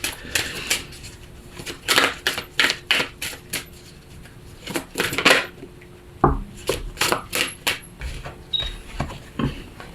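A deck of tarot cards being cut and handled, with a rapid series of crisp taps and flicks in quick bursts and brief pauses between them, close and clear, with no talking.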